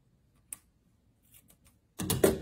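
Scissors cut through a piece of a paper snowman craft, a sharp snip followed by a brief close crunching of the blades near the end, with faint handling sounds before it.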